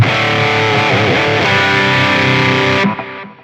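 Electric guitar runs through the Distortion 1 effect on a Zoom MS-100BT multi-effects pedal, giving a loud, gritty chord that rings with some bends and then cuts off sharply near the end.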